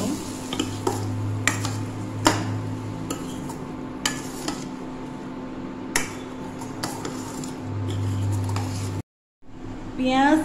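Finely chopped tomatoes frying in a pan for an egg curry, a steady sizzle under repeated scrapes and taps of a spoon against the pan, with a person talking over it.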